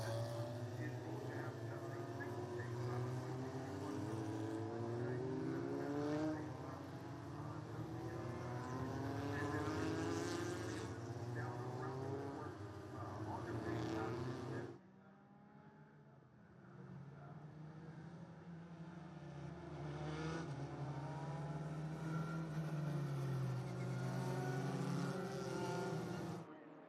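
Formula Continental race cars at the SCCA Runoffs run in a pack behind a blue Trans Am 455 Super Duty pace car, a steady droning engine roar with a shift in pitch midway.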